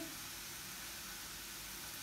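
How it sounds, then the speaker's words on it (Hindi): Vegetables for veg chowmein, including purple cabbage, roast in a hot pan with a steady, soft, close sizzle and hiss that continues evenly with no talking. "और सारी सब्जियों को हमें 2 मिनट तक रोस्ट करना है"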